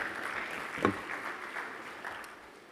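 Applause for a keynote speaker at the Connected Africa Summit, a steady, faint wash of clapping from a seated crowd that fades slightly toward the end, with one brief louder knock.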